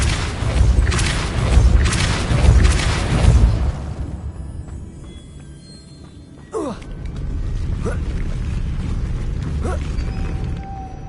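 A spell in the Hogwarts Legacy video game shoves a mechanism: a rumbling rush gives way to a sharp mechanical clunk and creaking movement, then a low steady hum, with no talking.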